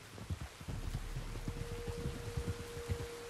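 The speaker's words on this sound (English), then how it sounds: "You were right about the damn rain." Rain falls in Red Dead Redemption 2, a steady patter of drops with soft irregular thuds underneath and a faint sustained hum joining partway through.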